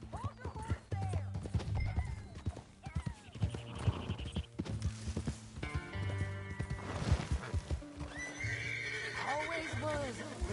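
Horse hooves clip-clop repeatedly alongside neighing and whinnying in the Western open-world game Red Dead Redemption 2, set over a busy game soundscape with talk heard at times.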